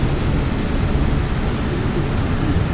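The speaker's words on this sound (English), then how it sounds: "Not much rain, but pretty good lightning." Severe squall-line thunderstorm in Wentzville, Missouri brings a loud, continuous low rumble of thunder with a steady wash of light rain, unbroken and filling the whole stretch.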